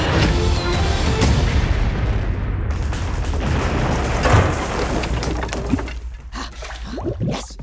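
Cannon fire booms from a battleship fight in the 2019 Addams Family movie trailer, a loud rumbling blast with crashing debris that swells and then fades, heavy low-end roar dominating.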